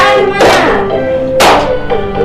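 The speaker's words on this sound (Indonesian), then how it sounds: "Tepuk tangan" Three sharp handclaps land at regular intervals over steady tonal music in a fourth-grade primary-school classroom during a microteaching lesson, fairly loud and close.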